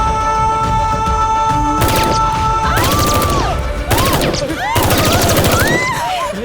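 Machine guns fire in long, loud, rapid bursts in an action movie scene set in a mall under attack, the bursts mixed with crashing impacts, music and a few shouts.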